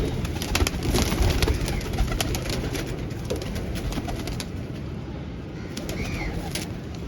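Old Bagla pigeons coo softly and repeatedly nearby in a loft, with light rustling and a few wing flaps against a steady background hum.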